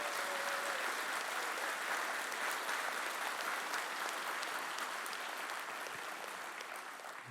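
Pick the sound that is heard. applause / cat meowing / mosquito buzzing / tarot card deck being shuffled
applause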